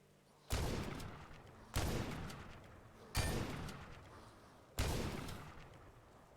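Four loud, sharp gunshots spaced about a second and a half apart in a video game, each a hard crack with a ringing tail that decays before the next.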